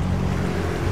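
A boat engine in the video game Arma 3 drones steadily and loudly, a constant close motor roar with a washing, wave-like hiss over it and no voices.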